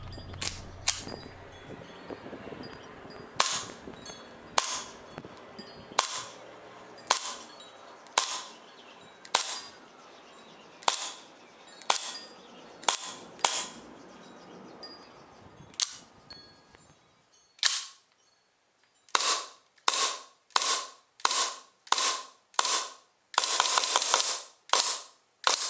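Sharp, loud ASG CZ P-09 airsoft pistol shots, amplified, crack one at a time at irregular intervals, then a quicker string of pops and a rapid burst near the end, with no talking.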